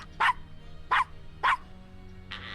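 Three short, sharp barks from a small dog in the adventure game Gabriel Knight: Sins of the Fathers, evenly spaced and fairly close, ending in a brief burst of noise.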